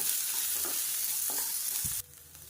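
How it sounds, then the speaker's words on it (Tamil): Chilli, garlic, tamarind and onion are stirred and sautéed in a pan, giving a steady close sizzle with a few scraping stirs before the frying noise suddenly drops. "இது எல்லாத்தையுமே நல்லா வதக்கி விட்டுக்கலாம்."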